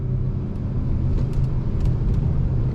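A 2021 Acura TLX Type S sport sedan drives along, its engine giving a steady, loud low rumble from inside the cabin with no talking.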